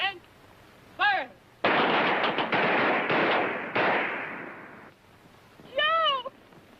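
Rifle gunfire on a military firing range rings out as a loud, dense volley lasting about three seconds, with rapid overlapping shots amid voices calling out nearby.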